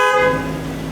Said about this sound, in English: when you hear the beep, then you move on to the next one